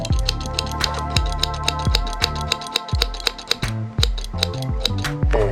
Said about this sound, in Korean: 가위는 언제 봐도 착착착착착 소리 소리 한번 들어보시죠